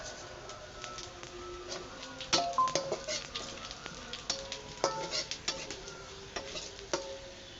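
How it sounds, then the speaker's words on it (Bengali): Small puti fish fry in hot oil, a close, soft sizzle broken by a run of sharp pops and spits that grow busier partway through, with no talking. "তো এখানে আমি পুঁটি মাছগুলো ভেজে নিব এখন।"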